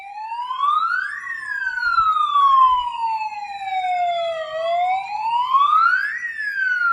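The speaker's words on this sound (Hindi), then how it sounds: "रात 10 बजे से अचानक बैंक ऑफ बड़ौदा का सायरन बजने लगा" A loud electronic Bank of Baroda alarm siren wails continuously at night in Sawai Madhopur, its pitch sweeping slowly up and down in long repeating cycles with no voices.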